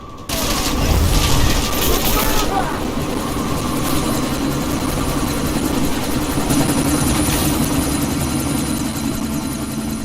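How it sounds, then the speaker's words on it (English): A helicopter's rotor chatter and engine drone run steadily throughout a sandstorm scene in the video game Deus Ex: Mankind Divided. A sharp burst comes near the start, with faint high tones running above. "you need to disable that chopper"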